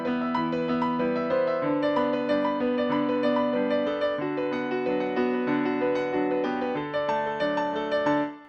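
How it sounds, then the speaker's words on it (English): A solo piano plays a well-known French piece, a steady flow of sustained melodic notes and chords at moderate volume without any talking, fading near the end. "That's like it's a French solo piano song."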